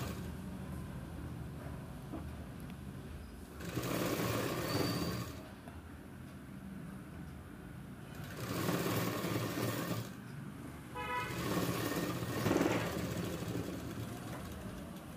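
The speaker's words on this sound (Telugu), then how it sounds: "నేను పక్కనే పడేటట్టు కుట్టుకుంటూ వెళ్తున్నాను" A sewing machine stitching fabric piping, running in three short bursts of a few seconds each, separated by quieter pauses, with a soft mechanical rattle close by.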